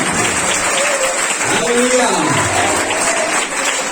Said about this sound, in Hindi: जोरदार ताली बजा के जोरदार ताली बजा